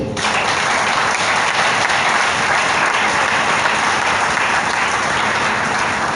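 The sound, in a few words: congregation applauding for Peter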